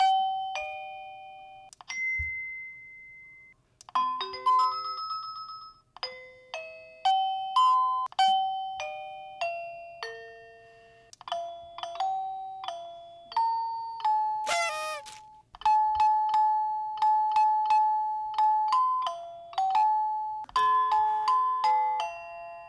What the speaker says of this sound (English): the door chime that this doorbell comes with has 8 different ringtones that you can choose from